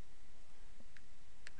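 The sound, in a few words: pressing keys on a calculator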